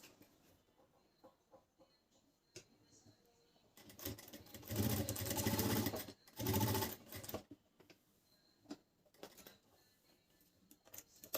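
A sewing machine stitches a garment pocket in two bursts of rapid whirring, the second shorter, with quiet handling noises between them and no talk.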